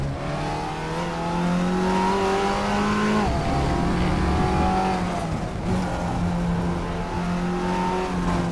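A race car in RaceRoom brakes hard for a tight hairpin, its engine note dropping through downshifts before revving back up, loud and close with a steady roar and no voices.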